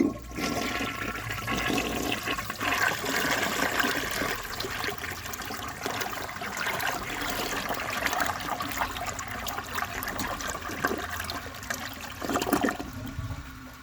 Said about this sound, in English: So I will show you guys a flush